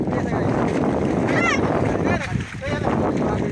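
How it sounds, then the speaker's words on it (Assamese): A wooden rowboat moves through village floodwater while wind and water wash steadily around it, fairly close. People talk throughout. "এইফালে নাও চলাই আছে"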